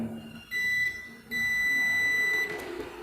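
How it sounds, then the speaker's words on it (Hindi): Continuity buzzer of a multimeter set to buzzer mode, sounding as two steady, loud, high electronic tones, a short one and then a longer one, with no talk over them. "मेरा मल्टीमीटर इसको मैंने अभी बजर मोड में रखा हूँ"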